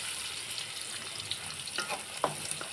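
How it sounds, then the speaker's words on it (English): Broken wheat daliya frying in a pan for a vegetable daliya, a soft steady sizzle with light scraping stirs toward the end, quiet and close, with no talk. "I'm going to fry it until it becomes light brownish."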